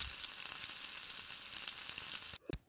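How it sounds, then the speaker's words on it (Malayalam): Arabic masala and Maggi stock cubes saute in a pan with a soft, even sizzle for a couple of seconds before it cuts off, followed by a short handling clunk. "ടേബിൾ സ്പൂൺ അറബിക് മസാലയും, 2 പീസ് മാഗി ക്യൂബ് കൂടെ ചേർത്ത് നല്ലോണം ഒന്ന് വഴറ്റിയെടുക്കാം"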